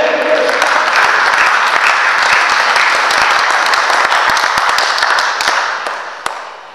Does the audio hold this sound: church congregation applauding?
yes